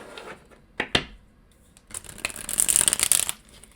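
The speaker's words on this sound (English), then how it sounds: "Okay, one more shuffle, guys." Tarot cards are shuffled close up in a few short bursts: sharp riffles and snaps, then a longer fluttering shuffle toward the end, with no talk over it.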